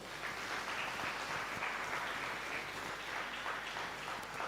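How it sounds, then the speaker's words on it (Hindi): Applause from a church congregation during a Hindi sermon, a steady, dense clatter of many hands held at an even level for several seconds, moderately distant, with no talk over it. "ताली नहीं बजाओगे?"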